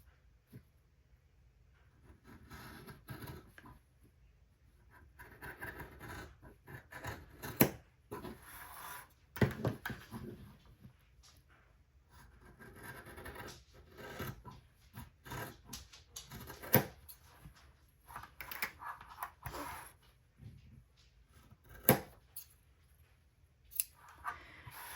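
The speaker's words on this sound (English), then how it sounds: "Grab sharp scissors and you're just gonna cut out along this line right here and this line right here" Sharp scissors snip through fabric layered with batting, a series of quiet close crunching cuts in irregular bursts with short pauses between strokes.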